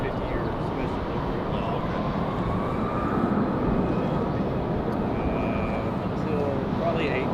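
A Southwest Airlines jet in its Independence One special livery passes near Raleigh-Durham International Airport, a continuous broad roar with a rising whine, while people talk over it.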